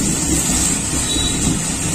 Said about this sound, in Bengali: দেখুন মেঘ ডাকছে